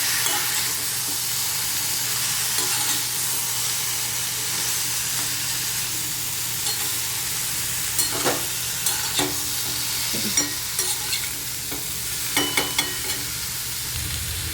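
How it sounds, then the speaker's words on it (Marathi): Eggplant and potato frying in a pan sizzle steadily while a spoon stirs the mixture, giving occasional scraping clicks and taps over the constant hiss, close and without voices. "हे सगळं मिश्रण आपल्याला एकजीव करून घ्यायचं आहे व्यवस्थित मिक्स करून घ्यायचं"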